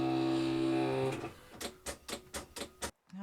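Fabric cutting machine slicing cloth for bunny shapes, a steady humming drone that stops after a second, followed by a run of rhythmic clattering strokes, close and alone.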